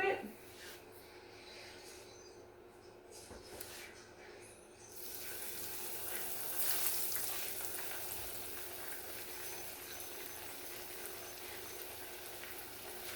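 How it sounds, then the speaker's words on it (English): Catfish frying in oil heated to 350 degrees for a po' boy: a broad, steady hiss of bubbling oil that swells after a few seconds and holds, close and fairly loud. "we're going to fry it at 350 for anywhere to, let me say, 3 to 4 minutes"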